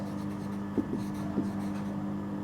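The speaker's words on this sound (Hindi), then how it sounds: "यहाँ पर लिखते हैं योर्स" A pen writing a letter on paper, a soft continuous scratching with a couple of brief stroke accents, close and quiet over a faint steady hum, with no speech.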